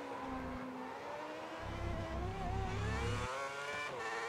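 A Lotus Formula One car's engine at full throttle down a long straight in F1 2010 at the Chinese Grand Prix, a loud sustained high-pitched whine that climbs through the gears with brief shift dips.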